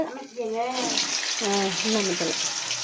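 Running kitchen tap water splashes steadily over hands being washed while making vada batter, a continuous close hiss with a voice talking over it.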